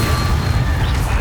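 A fiery Incendio spell bursts in Hogwarts Legacy, a heavy whooshing roar of flame that fills the short moment with a loud, continuous low rumble and crackling hiss.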